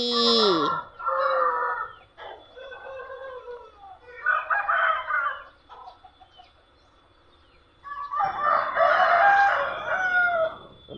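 Fighting cocks crow in the morning, several long calls rising and falling in turn, close and loud with short quiet gaps between, over faint clucking.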